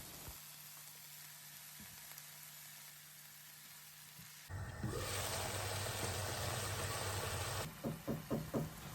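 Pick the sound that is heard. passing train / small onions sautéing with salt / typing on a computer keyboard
small onions sautéing with salt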